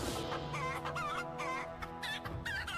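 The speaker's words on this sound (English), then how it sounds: "Chickens." Chickens in the video game Valheim cluck in a busy run of short, repeated calls, close and clear, one or more birds chattering one after another with no speech.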